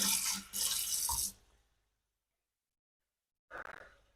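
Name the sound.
hot pan cooled under running water in a sink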